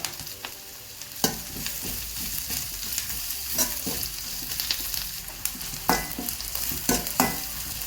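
Ingredients sauté in coconut oil for a Kerala fish curry made with thirutha fish. A close, steady sizzle runs throughout, broken by repeated sharp scrapes and clacks as the spoon stirs the pan, and no one speaks.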